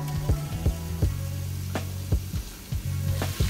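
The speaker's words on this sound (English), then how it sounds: "Gonna put the sausage in and we're gonna brown this up" Sausage browning in a cast iron pan for Cajun jambalaya with shrimp, a steady close sizzle broken by repeated scraping stirs against the pan, no voices.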